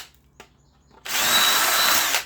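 A power drill with a 3/16 bit drilling out a rivet on a Patriot Forester chipper/shredder, beginning with a few faint clicks, then a loud, steady, high-pitched whine for about a second before it stops abruptly.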